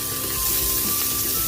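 Garlic sizzling steadily in hot cooking oil as the base for pork dinuguan, a loud, close, continuous frying hiss with no talking.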